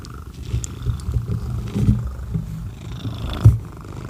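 House cat purring with a low, steady rumbling drone close by, faint and continuous with small swells, no talking.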